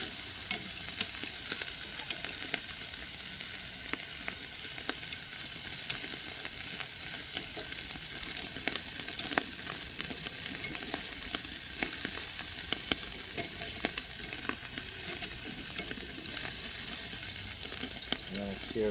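Pork barbecue sears in a hot pan with a loud, steady sizzle that runs unbroken from start to finish, sharp crackles and pops rising through the hiss.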